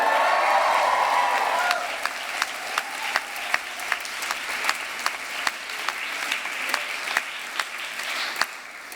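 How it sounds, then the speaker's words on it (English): A graduation ceremony crowd breaks into loud cheering and applause that quickly fades, leaving a few scattered, distinct claps ringing out one by one in a large hall. "perhaps it's worthy of a cheer"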